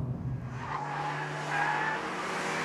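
A car driven fast on a race track, either a Ford Focus RS500 or a Renault Clio Cup, heard as a steady engine drone with a brief tire squeal, fairly faint and with no talk.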